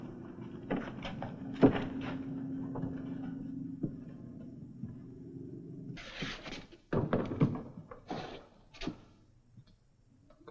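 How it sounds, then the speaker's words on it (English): A wooden door is opened in a Western television drama set in a frontier building. There are a few soft thunks and latch knocks, then a louder scraping, rattling movement, all fairly close and with no talk. "Just open up the door."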